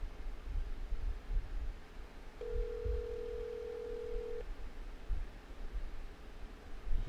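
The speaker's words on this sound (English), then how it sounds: "seems to not be answering the phone." Telephone ringback tone on an unanswered call, heard as a single steady electronic tone lasting about two seconds over a low background hum and room noise, with no voices.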